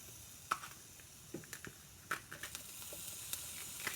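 Sliced bell pepper sizzles faintly on the hot plate of a Hamilton Beach sandwich griller, a soft steady hiss broken by a few small crackles and pops.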